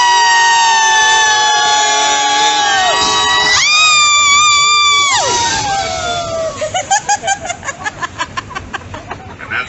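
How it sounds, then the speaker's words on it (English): Tour passengers scream together as an amphibious duck boat in Boston enters the water, their sustained rising group shriek swelling loudly and then breaking into splashing, laughter and cheering. "we're going to scream like 5-year-olds"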